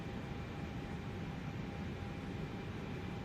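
Steady engine whine and broadband roar from an Airbus A321neo taxiing in Microsoft Flight Simulator 2024, with a constant level and thin tonal hums over a dense, even rush.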